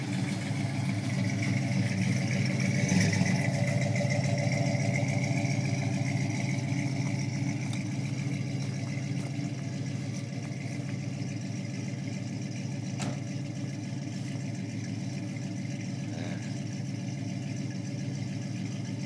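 A 1973 Ford Gran Torino Sport engine idles while warming up in the fall, with a steady low rumble that stays even throughout, with no voices.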